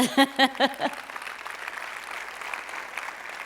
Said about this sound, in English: a round of applause, let's do it.